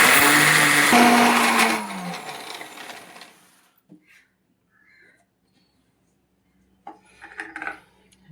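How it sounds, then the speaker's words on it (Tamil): A mixer grinder whirs loudly for about three seconds while grinding roasted urad dal chutney with salt and a little water, then cuts off, leaving near silence with a few faint clinks and knocks at the end. "இப்போ மிக்ஸி ஜாரில் சேர்த்து அரைச்சி எடுத்துடலாம்."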